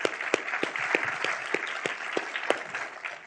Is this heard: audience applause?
yes